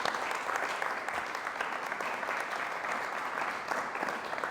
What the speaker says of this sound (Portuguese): Você pode aplaudir a Jesus pela vida dele?